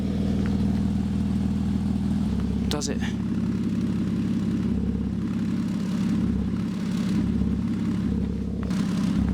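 Porsche 987 Boxster S engine idling steadily with its exhaust pipes blocked by hand during a leak check, a low continuous drone with brief clattering bursts, while someone speaks briefly nearby.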